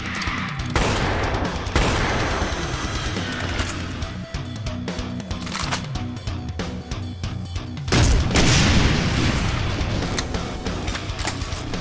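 Dense, continuous gunfire in Brutal Doom Platinum 64 in combat, heavy rapid shooting with booming blasts, loud throughout and swelling near the end, with no talk over it.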